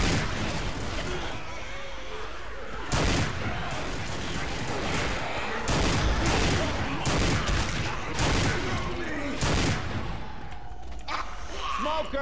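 Shotgun-style gunfire in Left 4 Dead 2, a 12-gauge firing repeated sharp loud blasts spaced a second or two apart over constant game noise, with people talking between shots.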